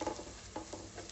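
Masala spices fry in hot oil in a pan for a paneer masala, giving a soft, muted sizzle and brief stirring scrapes over about a second.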